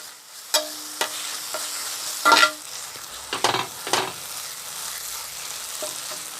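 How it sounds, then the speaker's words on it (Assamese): Turmeric, coriander and cumin powders fry in oil for keema curry under a low, steady sizzle, broken by several distinct scraping stirs of a spoon against the pan. "এতিয়া মিক্স কৰি থাকিম যেতিয়ালৈকে তেলটো সেপাৰেট হৈ নাযায় মছলাৰ পৰা।"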